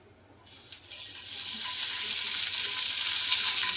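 Thickly cut onion and capsicum hit hot oil in a pan for gravy, and a loud, bright sizzle starts suddenly. It then builds into a steady hiss that lasts to the end, with no voices.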